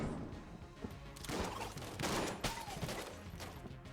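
Gunfire in the video game Enter the Gungeon, a dense rattling volley of shots mixed with explosive crashes and game effects, continuous and busy for a few seconds with no one talking.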